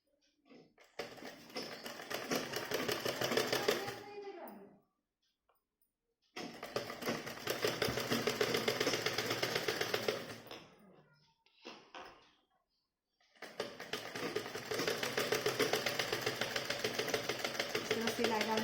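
A sewing machine stitching a blouse runs in three long bursts separated by short pauses, each a close, rapid rattling hum that starts and stops abruptly.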